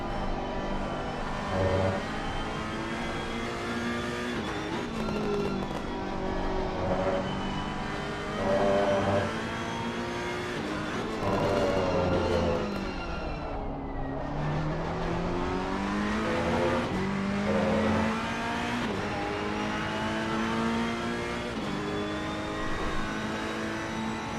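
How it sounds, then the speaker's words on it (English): Mercedes-AMG race car in Assetto Corsa Competizione during an endurance race at Laguna Seca, its deep, grumbling engine revving loud and steady through gear changes, with a brief dip when the engine backs off before it accelerates again. "the AMG sounds like a monster. It's got that deep grumble"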